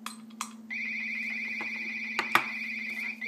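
An RX65 radar detector sounds its alert: a sudden, steady electronic tone that starts after a couple of soft clicks and holds continuously, close and clear, with a few sharp ticks over it.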